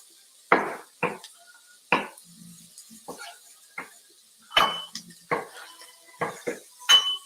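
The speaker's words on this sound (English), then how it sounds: "Now we're going to roughly chop it up and put it in with the rest of the mix." Vegetables roughly chopped on a board for a quinoa vegetable soup and dropped into the pot, giving a series of sharp, close knife knocks and clattering kitchen hits spaced irregularly, with no talking.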